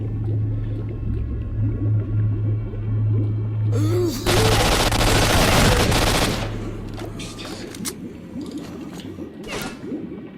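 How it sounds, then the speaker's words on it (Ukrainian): A loud burst of rapid gunfire in the video game S.T.A.L.K.E.R.: Shadow of Chernobyl crackles for a couple of seconds, surrounded by a steady low hum and electronic game-like tones. "Хтось по мені стріляє"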